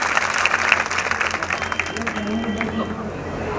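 Loud, dense applause rolls through an audience at a temple consecration ceremony as a local woman is honored, with crowd noise and chatter mixed into the clapping throughout.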